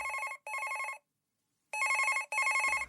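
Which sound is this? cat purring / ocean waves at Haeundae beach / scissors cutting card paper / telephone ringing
telephone ringing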